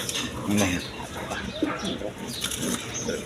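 A pair of white Bombay pigeons coo in soft, low throaty bursts, close by, with faint clinks in the background and a person speaking over them.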